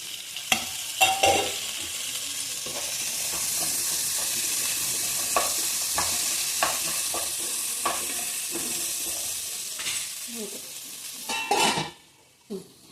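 Ginger and garlic stirred and fried in a pan for vegetable biryani: a steady, close sizzle with scattered utensil clinks and scrapes against the pan, fading out near the end.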